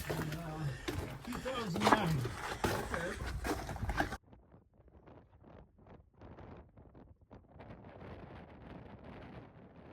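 Strong wind buffets the microphone at a mountain viewpoint above Badwater Basin, a loud rough roar for the first few seconds, then it drops to a thinner, gusty rustle.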